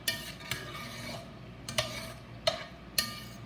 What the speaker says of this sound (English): As you stir constantly the mac and cheese.